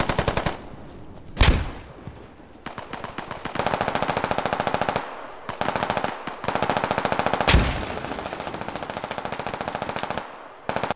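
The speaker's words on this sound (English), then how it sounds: "try and remember your team's gun sounds and enemy's gun sounds" Machine gun fire in the military shooter Squad, long sustained automatic bursts of rapid shots with short pauses between them and a couple of heavier impacts, loud and continuous with no talking.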